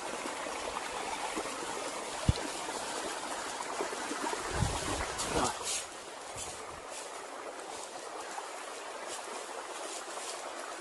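Small creek trickling at a camping site, a faint, continuous babble of running water with a few soft bumps and rustles near the middle.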